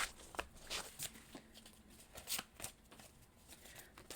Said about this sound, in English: I was shuffling it half one way and half the other.